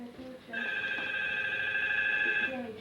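A telephone rings steadily with a bright electronic tone, starting after a brief pause and continuing for about two seconds, with faint talk underneath.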